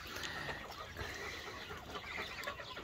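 Crested hens and roosters, five hens and four cocks, clucking softly in a coop: faint, scattered clucks over a quiet background.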